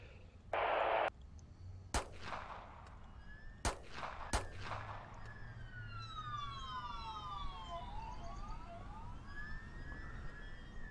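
Gunfire erupts during a shooting in the video game Keep The Peace: three sharp, loud shots ring out a couple of seconds apart while police sirens wail and sweep up and down steadily behind them.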